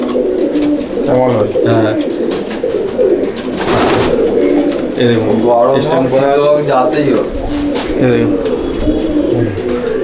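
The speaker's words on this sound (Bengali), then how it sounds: "মালবাহী পায়রা।" Pigeons cooing in a loft in Akra, Kolkata, a steady low burbling chorus running throughout beneath someone talking close by.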